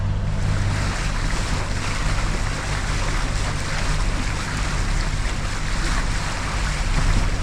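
A boat under way along Elliott Key toward Angelfish Cut off Miami, its steady engine drone and water rush continuous and close, with wind buffeting the microphone throughout and no voices.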